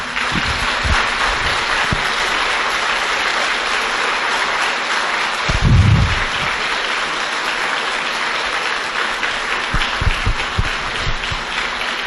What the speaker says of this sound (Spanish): con fe, con alegría, con optimismo, un fuerte aplauso